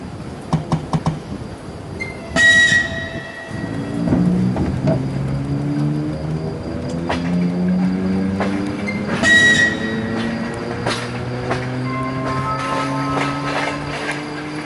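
An ER2R electric commuter train pulls out of Kyiv-Pasazhyrskyi station. Its traction motors whine and climb steadily in pitch while the wheels clack and rumble nearby, with two short sharp signal tones near the start and in the middle.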